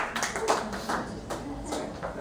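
A small audience at a startup tech event gives a brief, sparse round of applause, with a few scattered claps close by.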